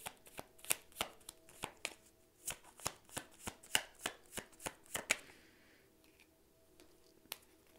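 Tarot cards being shuffled and drawn, a rapid series of sharp, crisp card flicks and slaps close by, then quieter with one last snap near the end.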